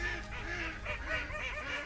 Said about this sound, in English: Oh my God, geese as well.